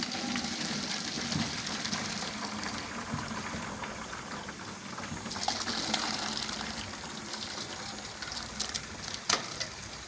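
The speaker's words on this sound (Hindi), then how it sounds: "अब हम इसका पानी निकाल लेंगे।" Boiled lonak daal draining its cooking water, a steady splashing, gushing pour of liquid running throughout at moderate level, with a brief louder splash near the end and no talk.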